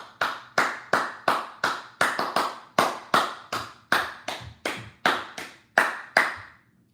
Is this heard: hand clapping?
yes